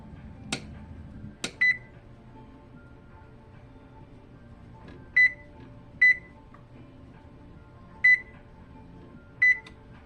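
Oven control panel beeping while set to preheat to 350 in a home kitchen, two sharp taps followed by five short, evenly spaced electronic beeps over quiet room tone.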